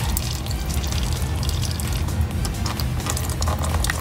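Factory transmission fluid, thin as water, drains steadily out of a Hyundai Veloster Turbo during a clutch install, a constant loud liquid rush and splatter into a pan with no break and no talking.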